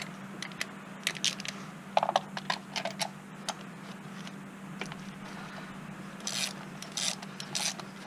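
A socket ratchet is spun freely during a Chevy Cruze tune-up, giving rapid quiet clicking bursts and metallic ticks over a low steady hum, close by and soft.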